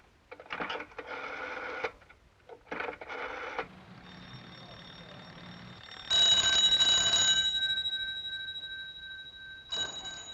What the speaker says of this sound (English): old Harris can't be back yet, or he'd answer that phone